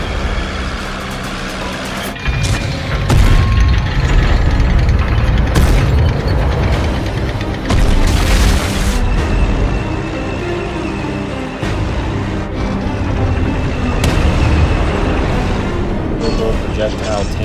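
Tanks in World of Tanks Blitz rumble and explode in a dense battle scene, with heavy booms, mechanical clanking and engine drone layered loudly throughout, and a voice speaking over the action.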